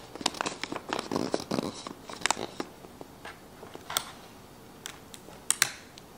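Sticky tape being pulled and pressed onto folded gift wrap paper, heard as a run of close, sharp crinkles, taps and short tearing ticks in an uneven rhythm.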